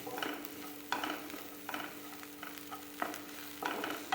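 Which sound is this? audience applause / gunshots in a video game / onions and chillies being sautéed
onions and chillies being sautéed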